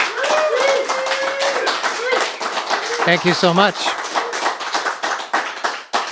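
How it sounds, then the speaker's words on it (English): Audience applause for a performer on a live local music show, brisk clapping from a modest crowd carrying on under a voice, with a brief whistle-like tonal flourish midway. "Let's give him another round of applause."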